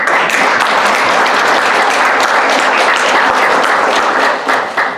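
A church congregation at Gunpo Seongseo Baptist Church bursts into loud, close applause for the pastor's wife, a thick wash of clapping holding steady for five seconds before easing off.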